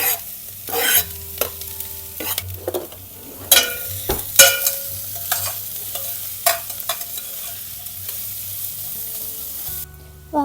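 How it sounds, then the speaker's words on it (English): Onions and garlic land in a hot pan for mung bean soup and fry with a loud crackling sizzle, while repeated spatula scrapes and stirring knocks keep coming through. "Now let's put our onions and garlic in the hot pan."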